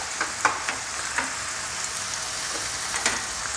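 Spicy chicken sausages in masala sizzle steadily in a pan, a close, continuous fry broken by a few soft stirring scrapes and pops.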